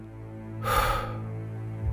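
A man, the strongman, exhales in one heavy, breathy gasp over a low steady hum, a single close rush of air lasting about half a second.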